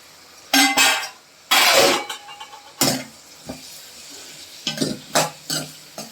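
Tomatoes tossed into a pan of sautéed onions while making sambar give bursts of sizzling and spoon scraping, several loud clattering stirs separated by short pauses, with no talking.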